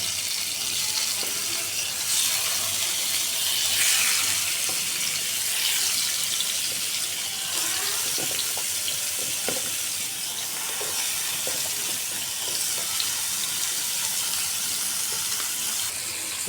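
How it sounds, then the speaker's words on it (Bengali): Thick fish steaks, marinated in spices, crackle and hiss as they fry slowly in oil in a pan. The sizzle is a dense, continuous wash throughout, with scattered small pops and no talking. "মাছগুলো আস্তে আস্তে কড়া করে ভেজে নেব।"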